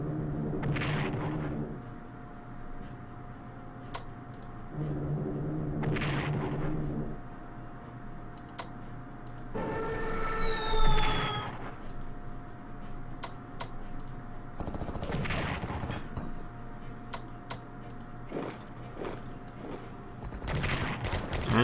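Bombing explosions in the World War strategy game Strategic Command come as repeated bursts of rumbling blasts at intervals, with a falling whistle midway and faint clicking between the hits.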